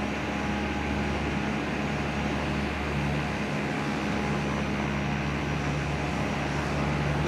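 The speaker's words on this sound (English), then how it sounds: "This plane is a bit of a noisy one, that's for sure." Steady, loud airplane cabin drone from a noisy light aircraft in flight over Murfreesboro near Nashville, Tennessee, with a continuous engine hum and rushing air throughout and no talk.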